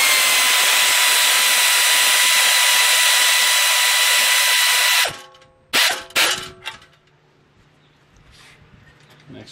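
A power tool runs with a loud, steady whine for about five seconds while tightening bolts on a tilting wind turbine assembly. It then stops, followed by a few short metallic clunks and quiet handling sounds.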